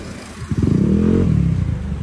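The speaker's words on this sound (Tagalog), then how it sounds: "Ikaw kuya, testing mo nga yung motor niya." A Yamaha NMAX scooter engine with an RS8 CVT setup and RS8 exhaust pipe revs up close during a test ride, a steady buzzing drone rising after a brief quieter moment and holding loud.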